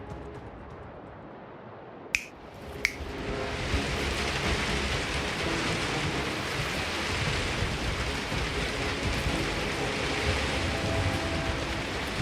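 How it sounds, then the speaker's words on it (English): Rain in the video game Reign of Nightfall: after two sharp snaps, a dense, even hiss pours in, continuing loud and unbroken to the end. "Rain."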